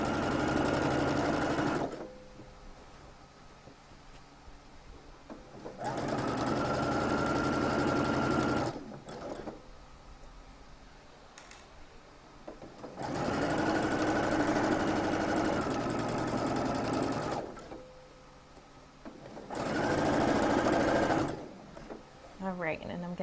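Sewing machine stitching a shirt collar in three sustained runs separated by quiet pauses, close and steady, with a person talking in between and over the stitching.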